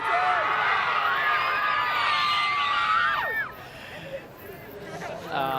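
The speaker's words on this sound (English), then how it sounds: "Let's hear a big cheer, you guys." Beach crowd at the Margaret River Pro surf competition in Western Australia cheering loudly, with screams and whoops in a dense, sustained roar that suddenly drops away to quieter chatter, then swells briefly again.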